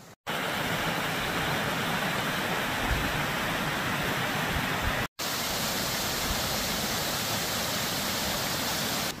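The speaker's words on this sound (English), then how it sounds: "We did not realize that these waterfalls just keep going and going." Winter waterfall pouring steadily, a dense, continuous roar of rushing water close by with no voices, briefly cut out once near the middle.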